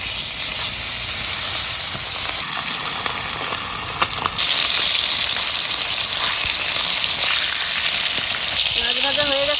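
Fish seasoned with salt and turmeric frying in a pan, a loud, continuous close sizzle and hiss that jumps louder midway as the oil spits, with a faint voice in the background.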